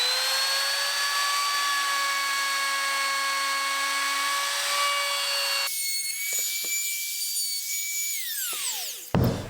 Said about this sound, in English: So I just use the router.